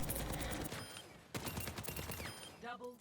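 Rapid primary weapon fire at training bots in the Overwatch video game, dense bursts of gunshots with a short gap, then electronic game tones at the end.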